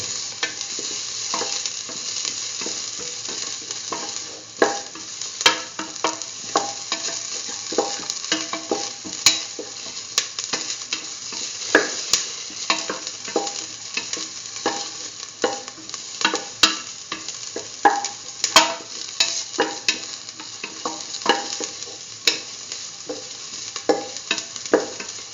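Ingredients for potato soya chunk rice sauté in a pan, with continuous sizzling and frequent sharp scrapes and clicks of a utensil stirring against the pan, fairly loud and close with no talking.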